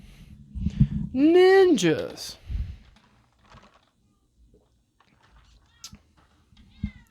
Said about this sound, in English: One of them's meowing at me right now from a distance.